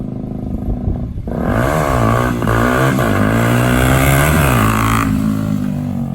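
A Yamaha WR125/YBR125 motorcycle revs hard during a wheelie attempt, its engine snarling up and down in pitch with sharp throttle blips, loud and close, no talking.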